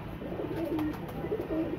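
Pigeons, including a Rampuri-type bird and a Teddy cross, coo in low, repeated rolling phrases at close range over a steady background hum, with no talking.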